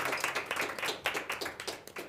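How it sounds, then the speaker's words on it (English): Audience members at a youth forum clap together in a soft, steady patter of overlapping handclaps, moderately distant and fairly quiet, with no talking. "I think the applause is for the audience."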